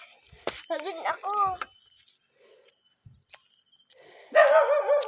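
A dog barks in a few short, close bursts, followed by a louder outburst at the end, while crickets chirp steadily in the background.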